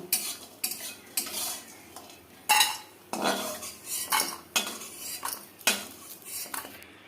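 Fried lentil dumplings (biulir daler bori) being lifted from a pan of mustard oil, with a series of loud, close metal utensil clatters and scrapes in an irregular rhythm, faint sizzle beneath.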